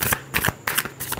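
A close, quick shuffle of a tarot deck: three short bursts of papery riffling in a brief, steady rhythm, with no voices.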